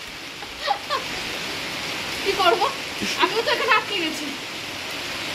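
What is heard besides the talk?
rain falling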